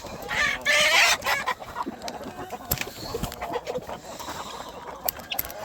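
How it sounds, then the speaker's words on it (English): A flock of roosters and chickens clucking and squawking close by, with a loud burst of crowing near the start, then scattered clucks and rustling over a busy farmyard background. "Got a bunch of the roosters."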